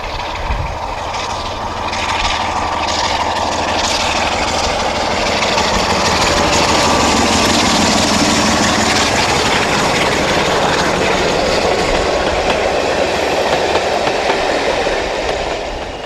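Diesel locomotive 47292 pulls away on the Great Central Railway near Ruddington, its engine swelling into a loud, steady roar with rumbling wagons and rail clatter building over sixteen seconds.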